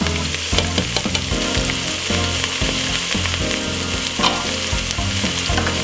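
White onion, spring onion, garlic and thyme fry in olive oil in a pan, a loud, steady sizzle with soft stirring scrapes running under it, no voices.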